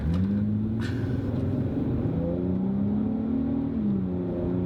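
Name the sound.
Infiniti G35 Coupe engine revving up to 4,000 rpm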